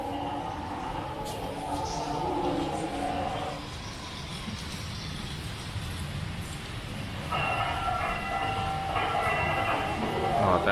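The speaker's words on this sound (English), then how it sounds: "that train just goes back and forth, eh?" A model train runs at the New York Botanical Garden holiday train show, giving a steady rolling rumble with faint clatter, with indoor crowd murmur behind it.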